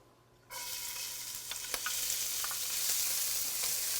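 Chopped onion hits hot olive oil in a pan after a brief quiet start, then sizzles loudly and steadily, broken by a few sharp crackles and pops.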